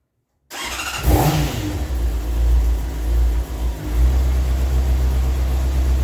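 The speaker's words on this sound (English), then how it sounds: "turn on the ignition, start her up, put her in first gear" A 2024 Honda CBR 600RR sport bike starts up after a moment of silence, catching with a sharp burst and then settling into a loud, close, rumbling idle that swells with a couple of throttle blips.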